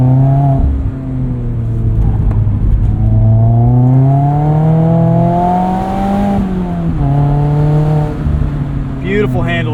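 A Mazda MX-5 Miata ND3 engine climbs through the revs in repeated rising sweeps, loud and close from inside the cabin, dipping between gear changes before pulling again.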